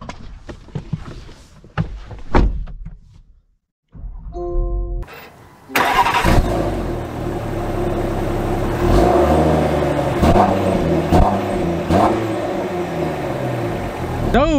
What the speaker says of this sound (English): So, setting off in the Defender